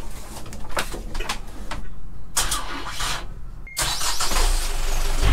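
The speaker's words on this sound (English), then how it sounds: "The engine is working." A boat's engine cranks and then catches, running loudly and steadily, while birds coo nearby in the background.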